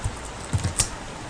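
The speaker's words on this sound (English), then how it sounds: "I'm going to type in" A few light keystrokes tapped on a computer keyboard, quiet and close, in an irregular burst with no talking.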